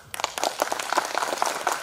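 Audience applause for a speaker at a general meeting in Agartala Town Hall, a short burst of scattered hand claps starting abruptly and carrying on at moderate volume, with no talk over it.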